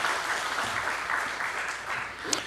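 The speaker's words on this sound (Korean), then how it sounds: "박수 한번 하시는 게 좋겠죠?" Church congregation applauding the choir's instrumental ensemble during a Sunday Advent service, a sustained wash of many hands clapping, fairly close and steady, with one sharper clap near the end.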